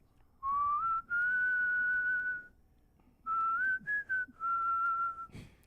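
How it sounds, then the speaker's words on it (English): A person whistles a tune in several long, clear phrases with short gaps between them, mostly held notes with slight pitch glides, close and fairly loud with no talking over it. "Give me a little whistle to that beat."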